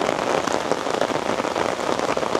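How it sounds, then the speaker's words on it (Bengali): Heavy rain pours down in Narsingdi, Bangladesh, a dense, steady roar of drops drumming on surfaces close by, with no voices. "প্রচণ্ড পরিমাণের বৃষ্টি হচ্ছে, মানে অকল্পনীয়।"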